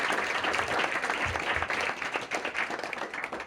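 An audience applauds to welcome speakers at an evening talk, with dense, sustained clapping from a roomful of people that holds steady and loud, then slightly thins toward the end.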